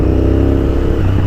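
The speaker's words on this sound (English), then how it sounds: "pretty hectic underneath the wrist, got a loud as hell exhaust" A 2008 Honda VTR 1000 carbureted motorcycle with a very loud aftermarket exhaust drones steadily and close while accelerating, a thick, continuous engine roar with no talking.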